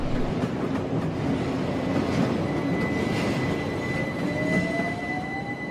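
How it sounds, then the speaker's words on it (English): A train pulls out of London's Fenchurch Street station along a covered way, with a continuous rumble and rail clatter and a thin whining tone that rises as it moves, steady and fairly loud with no talk. "Trains leave Fenchurch Street under a covered way."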